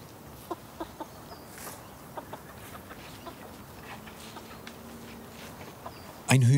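Chinese bantam chickens cluck in a scattered run of faint, short calls over a steady outdoor background, with a louder burst of noise right at the end.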